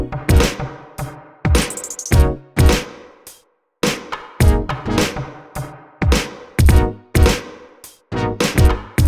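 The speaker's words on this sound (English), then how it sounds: "You can hear that percussion in the background." Hi-hats and extra percussion swing through a produced music track, set slightly late against the kick; loud, rhythmic hits repeat steadily with short gaps and a brief pause partway through.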